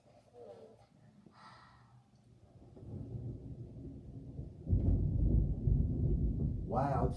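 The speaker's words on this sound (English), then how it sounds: "Wow, it's thunder right now." Thunder rolls in the distance at home, building from a faint low rumble into a louder, sustained grumble over several seconds, with a voice briefly audible.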